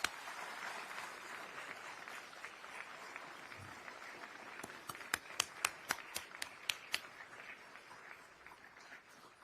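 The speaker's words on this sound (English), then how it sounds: "let's give a competition cadre and leadership a round of applause" An audience applauds cadre and leadership at an Army Best Medic competition ceremony, with steady, fairly distant clapping that ends in a few sharp, separate claps.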